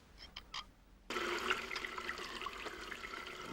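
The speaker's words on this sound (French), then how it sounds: "si tu continues à vouloir fermer ce robinet comme ça" A household tap gushes suddenly into a sink after a second of quiet, a steady close rushing flow of water with faint clinks, continuing alone without slowing.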